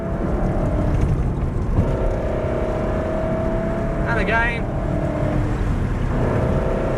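Race car at Prodrive on a track, its engine droning loud and steady as it accelerates along a straight, with a brief rising whine around an upshift and someone speaking briefly over it.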